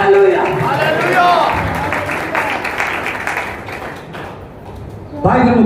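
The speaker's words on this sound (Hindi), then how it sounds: "जोरदार तालियां" Loud applause fills a church gathering during a Father's Day sermon, a dense burst of clapping from a crowd that swells, tapers off, then briefly returns at the end.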